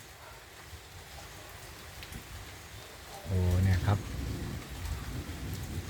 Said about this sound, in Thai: ทางโน้นก็ร้องคึงคึงข้างหลัง ข้างหน้าฝนตกแดดออก